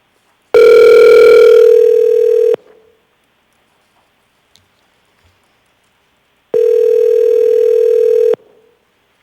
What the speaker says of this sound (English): We have one person, so we'll go ahead and call Ms. Stoddard.